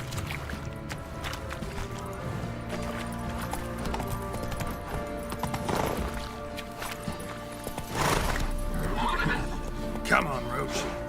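Roach, Geralt's horse in the video game Witcher 3, gallops with clip-clopping hooves and lets out several whinnies and snorts among game sounds. Voices talk over the action.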